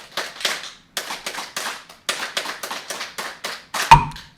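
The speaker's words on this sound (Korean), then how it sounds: "자, 3-3조 박수 시작." A lecture audience claps in the 3-3 rhythm, close and alone: sharp groups of three quick claps repeating through the span, ending on a louder final hit.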